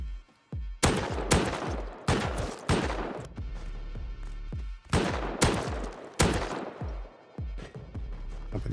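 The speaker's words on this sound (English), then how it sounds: "Okay, I see the turret that was shooting at me." Repeated turret gunfire in the game Rust, sharp loud bursts of shots arriving in uneven clusters, each one cracking and then fading into a short echo.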